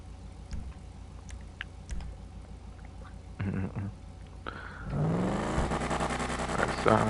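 Car engine in Grand Theft Auto Online, quiet idling and faint clicks at first, then a louder rising rev that climbs in pitch and holds, with a voice talking over the start.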